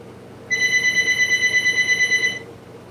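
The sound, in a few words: house telephone ringing in the background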